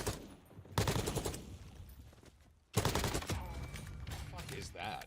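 An AR rifle in Valorant fires two long bursts of rapid automatic shots, loud and close, separated by a brief pause, with talking underneath.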